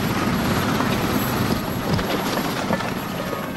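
A helicopter roars loud and close, its engine and rotor noise forming a continuous, steady wash that stays constant for the full few seconds.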